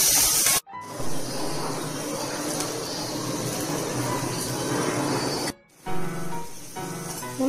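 Onion frying in a pan after mustard seeds have popped: a continuous close hissing sizzle lasting several seconds, broken by two short gaps.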